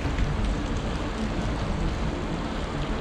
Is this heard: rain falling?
yes